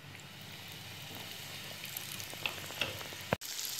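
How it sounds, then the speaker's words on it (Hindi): Breaded malai kofta frying in oil over a low flame, a continuous soft sizzle with a few small pops and a brief clink near the end. "हमारे कोफ्ते फ्राई हो रहे हैं।"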